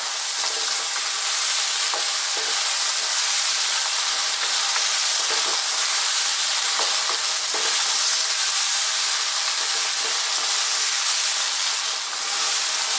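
Chicken fried rice with soy sauce stir-frying on high heat, a loud unbroken sizzle and hiss close up with faint scrapes of stirring now and then, no talking.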